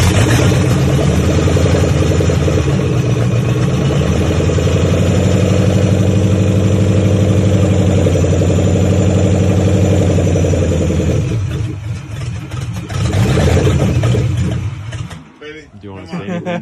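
A car engine runs steadily after its fuel pump is reconnected, idling loud and close with a constant low drone for about eleven seconds before wavering and dipping near the end.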